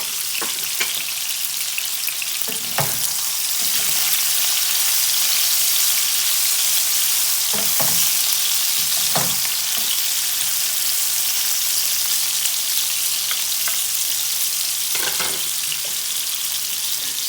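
Maitake mushroom and Chinese baby bok choy stir fry in a hot pan with a steady, dense sizzle throughout, broken by occasional utensil scrapes and clacks, close and fairly loud, no talking.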